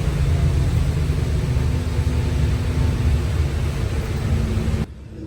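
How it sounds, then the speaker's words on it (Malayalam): Steady broadband hiss of heavy rain drumming on a moving bus on a mountain pass, with a low engine rumble underneath, continuous and fairly loud before cutting off abruptly near the end. "നല്ല മഴ ഉണ്ട് കേട്ടോ."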